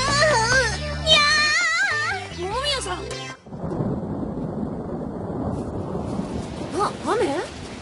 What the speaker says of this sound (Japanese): 雨？ さっきまでいい天気だったのに。